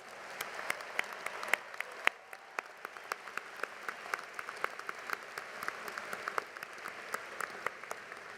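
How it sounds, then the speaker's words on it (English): A large commencement audience at Washington State University's Spring 2016 ceremony claps steadily for the graduates, a dense, sustained wash of applause with crisp individual claps popping out, heard from a slight distance and without speech. "Everyone, a round of applause for all of these graduates"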